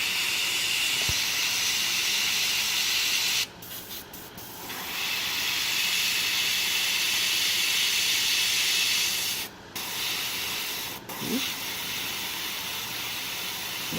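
A spray can mists white paint onto a miniature figure, a steady close hiss that runs almost continuously, broken by two short pauses where the nozzle is released, with faint tapping underneath.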